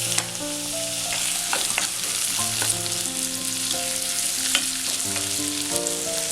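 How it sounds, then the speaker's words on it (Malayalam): Tomato pieces frying in a pan with softened onion, ginger and garlic for a green pea paneer masala, a steady close sizzle with stirring clatter and harmonic tones running throughout, no talking. "ഇനി ഇതിലേക്ക് നമുക്ക് വലുതാക്കി മുറിച്ചേക്കുന്ന തക്കാളി ഇടാം."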